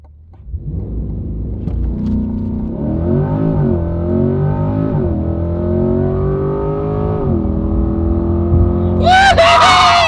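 A base model Chevrolet C8 Corvette launches under launch control, its engine roaring loud and close as it climbs through rising revs with quick gear-change dips, ending in a sudden burst of excited shouting.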